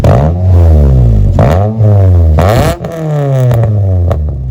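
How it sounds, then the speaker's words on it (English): A Ford Fiesta ST fitted with a Toyosport non-resonated high-flow sports cat exhaust revs hard three or four times, each loud, close rise in engine pitch falling away before the next throttle blip, with no talking. "this exhaust is way too loud"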